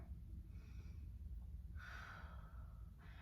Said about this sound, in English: Taking some deep breaths here.